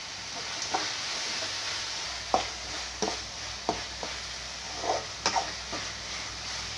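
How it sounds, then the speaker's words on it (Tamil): Chana dal frying in a pan with ginger garlic paste and asafoetida, a steady soft sizzle broken by scattered scraping stirs of a spoon, close and alone without any voice. "எல்லாம் சேர்ந்து வதங்கி வருது"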